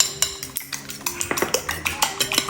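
Egg gets mixed into ugali on a plate with a utensil, a quick run of sharp clinks and scrapes against the dish in a brisk, uneven rhythm, close and distinct with no talking.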